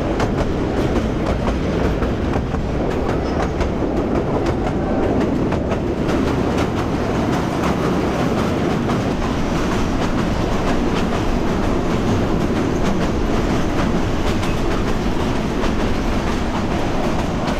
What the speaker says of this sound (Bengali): কি একটা ট্রেন গুলো আসছে